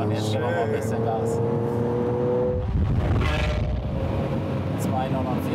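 A Lamborghini supercar engine is revved hard, first at a steady pitch, then rises into a loud rushing roar of acceleration midway. It is heard close up from inside the car, with people talking over it.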